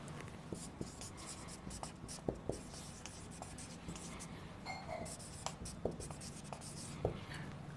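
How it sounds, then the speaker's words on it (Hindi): Pen or pencil writing a sentence in English during a grammar lesson, producing faint, steady scratching strokes with small taps, quiet and close with no talking. "एक और सेंटेंस लिखते हैं हम"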